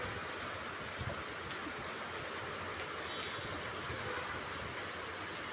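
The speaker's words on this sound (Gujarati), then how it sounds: "ખૂબ જ પવન સાથે એકદમ મોટા છાંટા સાથે વરસાદ." Heavy rain pours down steadily in a garden during a sudden monsoon shower with strong wind, a dense continuous hiss of large drops striking surfaces, close and loud with no speech.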